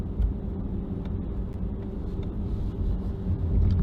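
Steady low engine rumble and road noise from inside a moving car, continuous and fairly loud with no talking.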